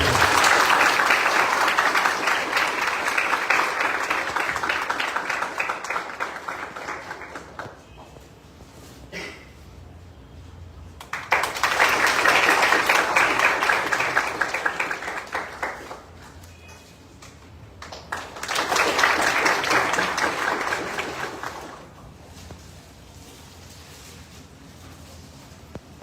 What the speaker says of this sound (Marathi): सगळे जोरदार टाळ्या वाजवा.